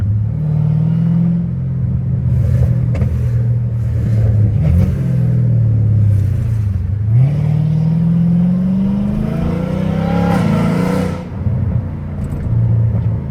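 A straight-piped Dodge Challenger Hellcat Redeye rumbles loud and close from the driver's seat, a deep steady engine drone that swells and dips with throttle, then climbs in a rising rev near the end.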